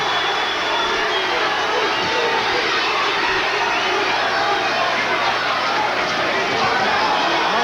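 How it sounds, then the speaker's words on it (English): Boxing crowd at a bout between Oliver McCall and Bruce Seldon gives a steady, dense roar of cheering, distant and continuous, under a commentator's voice. "Gets the crowd excited."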